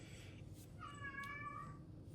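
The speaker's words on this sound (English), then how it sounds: "Sorry, my cat." An indoor house cat meows twice in quick succession, the second call longer and more drawn out, fairly faint over a quiet room hum with no one talking.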